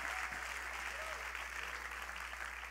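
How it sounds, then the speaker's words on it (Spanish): A church congregation applauds loudly during a Spanish-language sermon, a steady dense clapping that holds at even strength throughout, with no voices breaking through. "Dale un aplauso bien fuerte al rey"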